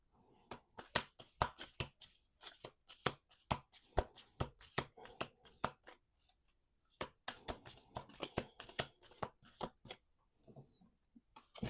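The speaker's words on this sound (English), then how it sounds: "do 2 more shuffles" A deck of playing cards is shuffled up close in a quiet room: repeated quick riffling bursts of crisp snapping flutters, with a short pause partway through before the shuffling resumes.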